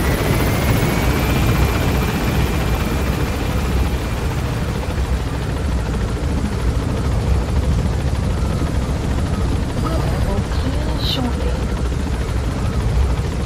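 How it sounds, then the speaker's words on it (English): An extraction helicopter in the video game Metal Gear Solid V produces a loud, continuous rotor drone and whine that stays strong and steady from start to finish. "Now get out of there. Extraction arrived."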